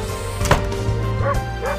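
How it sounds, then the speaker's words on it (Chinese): A cartoon dog barks outside a window in a Simpsons episode, giving a couple of quick, sharp barks over a low background hum. "窗外传来狗叫"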